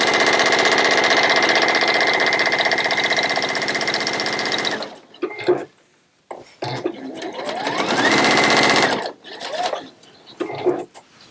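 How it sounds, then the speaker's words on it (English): Sewing machine stitching across one end of a piece of fabric, a loud, steady mechanical whir for several seconds that stops, followed by short bursts and another sustained run. "And when we go down, I will just sew across one end."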